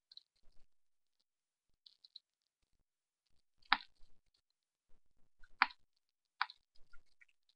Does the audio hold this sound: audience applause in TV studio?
no